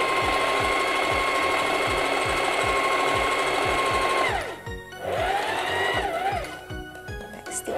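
A sewing machine stitches a hem on stretch fabric with a steady fast needle clatter and a high motor whine, then slows and pauses briefly before starting again, close and loud with no talk over it.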